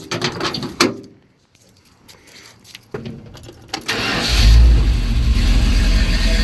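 A 1970 Dodge D100 pickup with a new exhaust cranks after a few clicks and knocks, then its engine catches and settles into a loud, deep idle and rev that swells and holds near the microphone.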